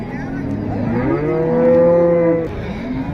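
A cow lets out one long, loud moo that rises and then fades, against a murmur of background noise at a cattle market in Tiruppur, India.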